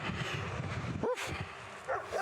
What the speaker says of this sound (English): Oh, puppy.